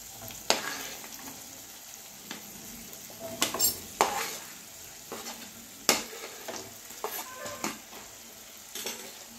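Green chillies and garlic frying in oil for a carrot-radish pickle, a steady close sizzle broken by sharp scrapes and clinks of a spoon stirring against the pan, with no voices.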